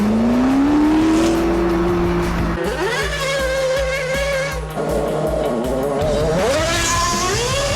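A Triumph car drives close by with its engine revving, pitch rising through the gears, then drops back and climbs again with a throaty, rumbling exhaust.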